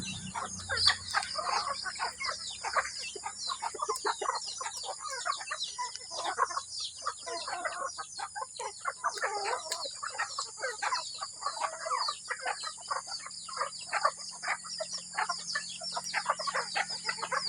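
A flock of backyard chickens clucks continuously at close range, with overlapping busy calls and occasional crowing, all fairly faint and steady throughout.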